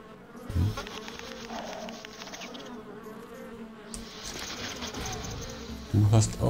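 In ARK: The Island, giant Meganeura insects hum and buzz steadily nearby, a sustained drone with brief louder thumps near the start and end, and someone speaking briefly over it.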